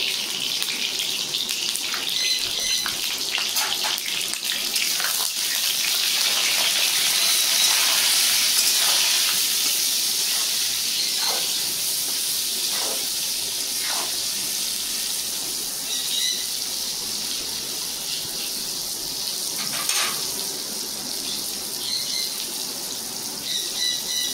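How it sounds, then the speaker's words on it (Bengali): Brinjal (eggplant) pieces seasoned with salt and turmeric fry in hot oil, making a steady hissing sizzle that holds for the whole stretch, briefly stronger in the early middle, with no speech. "হালকা ভেজে নিয়েছি, তুলে নেবো।"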